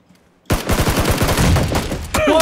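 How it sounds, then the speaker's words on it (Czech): After a moment of near silence, rapid automatic gunfire in the video game PUBG erupts loudly and continues in a sustained burst, with a sharper shot or effect near the end. "A už po mě střílí."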